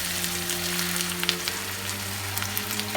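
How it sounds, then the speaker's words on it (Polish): Chopped onion hitting hot oil in a pan, a steady dense sizzle with faint crackles, close and even throughout, with no talking. "Olej nagrzany. Wrzucamy cebulkę."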